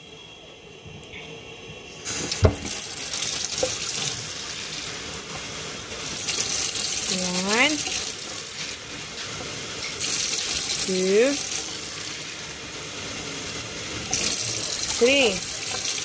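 Tap water runs steadily into a pot of rice, a continuous hiss and splash with a few brief whistling sweeps, while a person counts aloud partway through.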